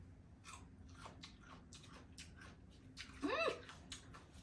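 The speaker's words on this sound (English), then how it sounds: "We should take one piece of cucumber and try it." A piece of pickled cucumber from a Guyanese pickled pepper jar is bitten and chewed up close, with faint crunching and wet mouth sounds and a brief vocal squeal near the end.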